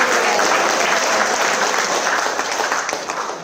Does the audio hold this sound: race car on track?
no